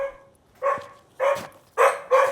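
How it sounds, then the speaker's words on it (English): A dog barks four times, each bark sharper and louder than the last as it draws nearer, with quiet gaps in between and no talk. "a new sound joins in, barking. A dog barking,"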